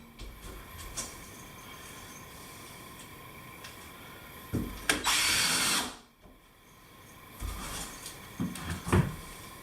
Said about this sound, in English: You put a screw every foot.